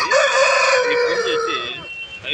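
A rooster crows loudly and close by at a poultry market in Anantapur, one long drawn-out call that trails off toward the end.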